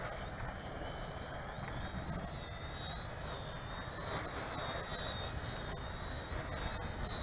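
An XK X260 RC quadcopter flies in wind, its motors holding a steady high-pitched whine with an even buzzing drone over low wind rumble throughout.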